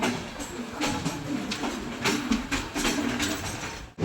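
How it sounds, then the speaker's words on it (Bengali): A train changing tracks rumbles past with a steady low roar and repeated rhythmic clacks of wheels over track joints, continuing until it cuts off at the end. "দেখো ট্রেনটা ট্র্যাক চেঞ্জ করছে দেখো"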